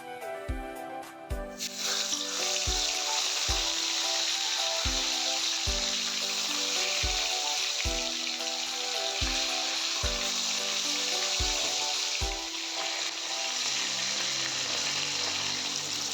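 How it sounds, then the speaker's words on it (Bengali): Pomfret fish frying in hot oil in a wok: loud, continuous bubbling sizzle up close, punctuated by a regular series of low thumping knocks every second or so, with no talking. "তেলটা গরম হয়ে গেছে, আমি এখন মাছগুলোকে ভেজে নিচ্ছি।"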